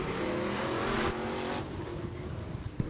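Stock cars racing at Stuart Speedway during Whole Hog 50 heats roar steadily around the track, a dense mid-distance engine drone that swells and fades slightly as the pack passes.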